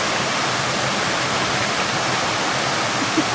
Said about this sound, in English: Like all this beautiful water, little waterfalls everywhere you go.